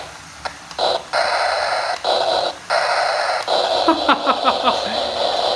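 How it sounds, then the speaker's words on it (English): Electronic steam exhaust effect from a 1993 Hornby Night Mail train set, loud buzzy tones that break into a quickening run of rhythmic chuffs toward the end, with no talk over it. "And exhaust."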